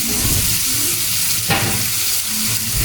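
Fried rice sizzles loudly in a hot pan with a constant crackling hiss, while stirring scrapes and clatters through it at close range.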